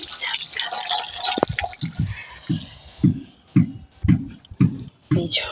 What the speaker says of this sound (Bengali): ধুয়ে নিলাম নারকলটা